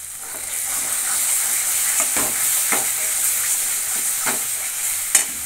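Water hits frying poppy seed paste in a pan for katla posto, raising a loud steady sizzle up close with intermittent stirring scrapes and a sharp clink near the end.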